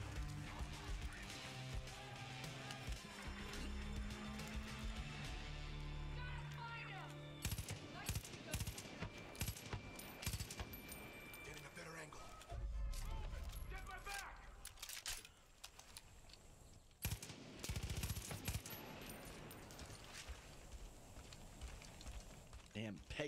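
Rifle gunfire in Far Cry 5, scattered sharp shots and bursts over game music and ambience, with someone talking over much of it.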